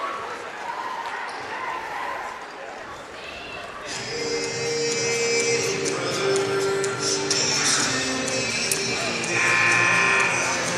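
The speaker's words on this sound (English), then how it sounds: "First buzzer just sounded." A high school boys basketball gym buzzer ends the first quarter, sounding as a sustained tone that cuts in over a noisy, echoing crowd, which then keeps murmuring and shuffling.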